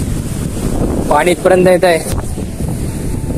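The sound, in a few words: strong wind at the seashore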